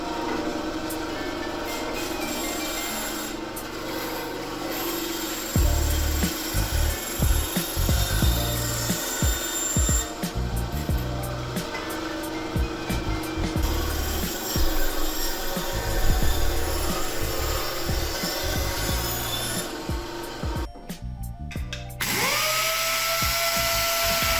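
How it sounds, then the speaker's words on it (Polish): Power tool rounding over the tops of wooden posts for a stair safety gate, a steady grinding and buzzing whir with bursts of rougher rasping as it cuts the wood, loud and close, ending in a short motor wind-down. "a teraz będę zaokrąglał górę tych słupków"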